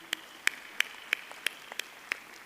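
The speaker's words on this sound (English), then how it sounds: "let's give a big round of applause to the DUT family" Scattered, sparse handclaps from a graduation ceremony audience, about seven distinct claps spaced fairly evenly, faint and distant over a quiet hall.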